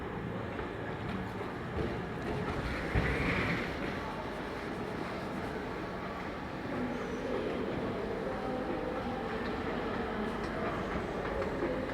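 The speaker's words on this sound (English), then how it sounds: "there's the train, 12:17, on our way to Wigan Gate" A passenger train between Leeds and Todmorden runs steadily on the rails with a continuous low rumble and faint rhythmic clatter, heard from inside at moderate level.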